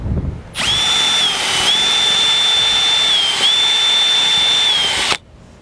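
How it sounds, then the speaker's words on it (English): A power drill fitted with a hole saw cuts into the wall of a 2022 Keystone Passport RV, a loud, close, steady whine that runs several seconds before stopping abruptly. "So I widened up our hole just a little bit bigger using a hole saw."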